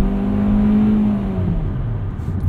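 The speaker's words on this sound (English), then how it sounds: "The engine sounds a little bit strained at high RPMs, but that's usually the case with a CVT." A 2020 Kia Soul X-Line with a CVT accelerates while driving at night, its engine holding a loud, steady droning whine that drifts slightly in pitch over road noise, with no talking.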